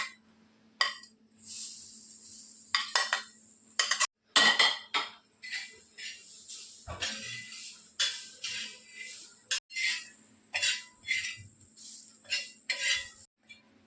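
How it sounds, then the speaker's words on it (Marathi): Grated coconut roasted in a pan for a cabbage kofta curry, with a utensil repeatedly scraping and clinking against the metal pan in short irregular strokes, close and fairly quiet, no talking. "आपल्याला खोबऱ्याला पण थोडं भाजून घ्यायचं आहे त्यात आपण खोबरं टाकूया"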